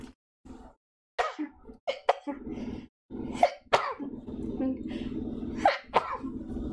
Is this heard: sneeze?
yes